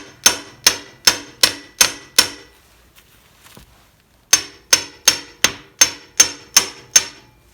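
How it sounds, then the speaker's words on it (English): Sharp metallic hammer blows strike an impact screwdriver to free stubborn stator bolts on a 1968 Wheelhorse Raider 9 garden tractor, with a run of six evenly spaced loud strikes, a pause, then seven more in the same steady rhythm. "I'm going to use an impact screwdriver because these bolts aren't shifting in a hurry"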